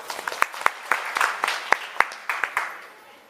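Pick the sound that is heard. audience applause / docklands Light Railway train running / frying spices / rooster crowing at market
audience applause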